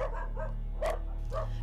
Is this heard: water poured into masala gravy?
no